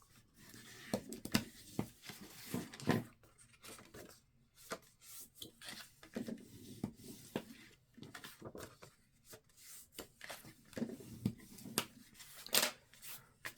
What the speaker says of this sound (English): I'm going to fold and burnish all of these at the score line